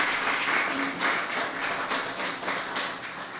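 Sparse, fairly quiet clapping from a small group at a ceremony, uneven and thin with individual claps standing out against a soft room background.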